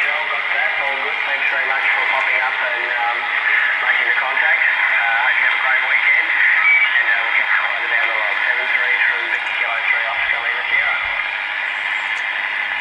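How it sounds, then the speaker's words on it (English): A faint, hissy single-sideband voice from an Australian amateur station on the 40 metre band comes through a homebrew superheterodyne receiver, steady band noise and static running continuously under the distorted speech. "It's an Australian station on 40 metres."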